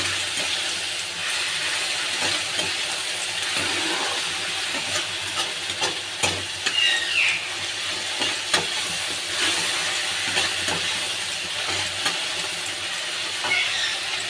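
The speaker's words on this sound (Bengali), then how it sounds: "এবার আমি আদা রসুনের পেস্টটা দিয়ে দেব। একটু হালকা নেড়ে চেড়ে নেব।" Ginger garlic paste sizzling in a pan while being lightly stirred, a continuous hissing fry broken by scattered spatula taps and scrapes.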